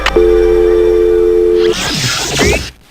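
Telephone tone after a call ends, a steady electronic tone held for about a second and a half, then broken up by a burst of hissy noise and chirping electronic sounds before cutting off.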